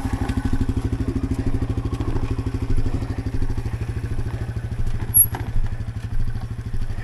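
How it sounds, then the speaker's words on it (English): A dual sport motorcycle engine-brakes in first gear while riding in the Nevada desert, giving a close, steady train of low, rapid exhaust pulses with occasional clattering knocks. "Put her in first gear, just engine brake."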